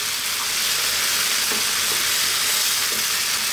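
Sauce of soy, oyster sauce and ketchup stirred in a hot pan, a close, even sizzling hiss with faint scraping, no voices.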